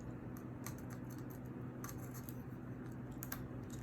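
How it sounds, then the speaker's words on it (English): A business card is cut with scissors in a series of quiet, close snips and light paper scratches over a steady low background hum. "let's use her business card here to cut it"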